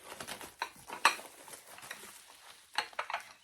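Delicate china teacup plates being handled and set down, a series of light clinks and rattling knocks in irregular bursts, close and fairly quiet.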